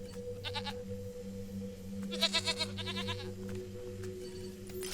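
Several short, rapid bleats from a mountain goat in the video game Wasteland 3, heard in quick bursts over a constant low hum of game background sound.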